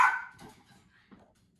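A dog lets out a loud, sharp bark close by, followed by a few fainter, shorter yips and whimpers trailing off.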